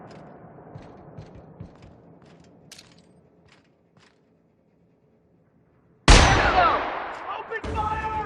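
Gunfire in the video game The Outer Worlds: quiet scattered taps and clicks at first, then a sudden loud blast around six seconds that decays into rattling debris, followed by another loud burst near the end.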